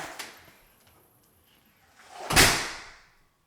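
An interior house door fitted with a five-point lock swings shut with a solid slam and rattling latch, preceded by faint clicks and handling, loud and close in an otherwise quiet room.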